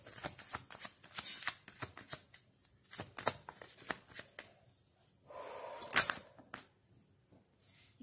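Tarot cards are shuffled in quick, close, papery riffles and flicks that repeat unevenly, with a brief louder rustle near the end and no talking.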